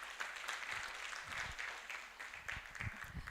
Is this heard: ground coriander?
no